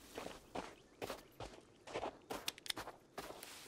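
Footsteps of someone running through snow in Sons of the Forest, a string of crisp, uneven crunching steps, some louder and closer than others, heard alone.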